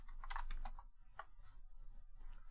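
Keystrokes on a computer keyboard, a quick burst of close clicks followed by sparser taps over a low steady hum.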